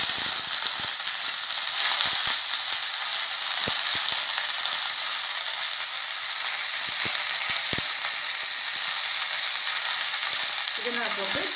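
Mint leaves sautéing in a little oil, a loud, dense hiss of frying with scattered sharp ticks and pops of spatula stirring, steady and close throughout.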